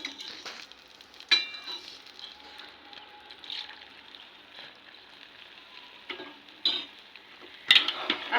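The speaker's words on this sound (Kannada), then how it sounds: "ಮತ್ತು ಇನ್ನೊಂದು ಸ್ವಲ್ಪ ತುಪ್ಪ ಹಾಕ್ತಾ ಇದ್ದೀನಿ ನಾನೀಗ." Ghee sizzling in a pan while jaggery Mysore Pak cooks: a soft, steady hiss with a few sharper clinks and stirring scrapes, fairly quiet and close, with no voices.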